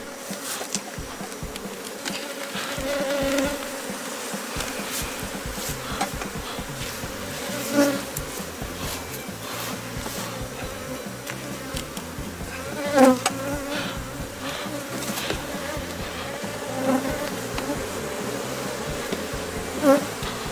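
Honeybees hum around a hive being split into a new colony, with a steady, dense buzzing of many insects close by and occasional louder passes near the listener.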